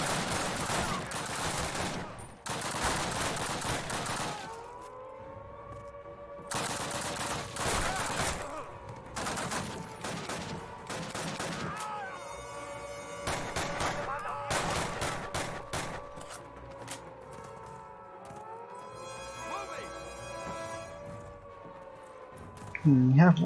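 M1 Garand rifle gunfire in Call of Duty 1, with repeated bursts of loud shots separated by short pauses and a wailing siren tone underneath. Players talk between and over the shots.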